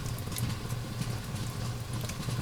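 An immersion blender whirs through thickening blueberry barbecue sauce, a steady low motor drone with a busy churning patter on top, moderately quiet and continuous.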